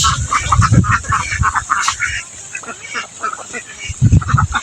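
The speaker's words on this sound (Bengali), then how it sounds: "দেখেন কতগুলো হাঁস" A flock of ducks near a river, a burst of loud nasal quacking at the start and again near the end, with a quieter stretch of scattered calls between.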